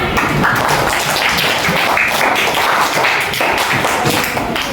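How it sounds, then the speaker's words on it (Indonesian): Dense applause fills a classroom after a school lesson on following class rules, a steady wash of many hands clapping at close range throughout, with no pauses. "tepuk tangan buat kita semua"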